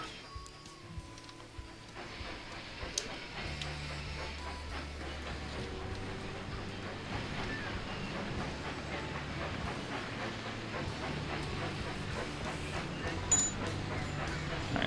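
Train rolling along rails in the video game Railroad Tycoon 3, a steady low rumble with rhythmic clatter continuing throughout, fairly quiet and even, with no talking.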